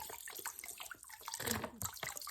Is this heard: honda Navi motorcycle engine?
no